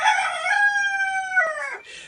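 A single loud rooster crow rings out close by, a long drawn-out call that rises and then trails off.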